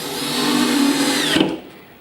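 A power drill drives screws into a kitchen cabinet base end shelf, whirring steadily for about a second and a half and rising slightly in pitch before stopping abruptly, close up with no voices.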